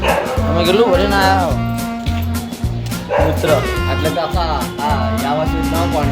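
A pet dog named Tommy barks repeatedly in short bursts, close and loud, answered by another dog, while someone talks over the barking throughout.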